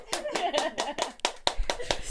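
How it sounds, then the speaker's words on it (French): A small group applauding a podcast guest, with a few quick hand claps in an uneven rhythm, close and fairly light, with faint voices mixed in. "vraiment, on l'applaudit."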